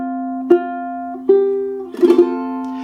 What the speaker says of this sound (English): dragging your nails of your strumming hand gently over all of the strings